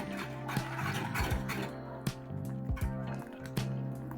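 Banana porridge with added vanilla being stirred in a pot, soft wet squelching and dripping with scattered spoon clicks, close and fairly quiet with no talk.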